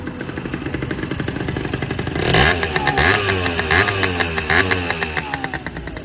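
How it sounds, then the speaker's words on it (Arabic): A motorcycle idles with a rapid, throbbing exhaust pulse, then the throttle is blipped and the engine revs up loudly through the exhaust and stays raised, close by. "سمعني السقوليه، اسمع"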